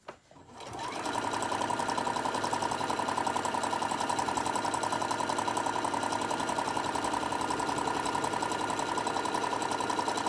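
A sewing machine runs steadily and loudly, stitching back over the sewing lines of a candy corn print mug rug, with a fast continuous mechanical whir after a brief start.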